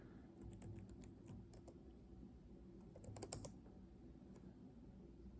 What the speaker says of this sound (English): Very slowly type with one hand.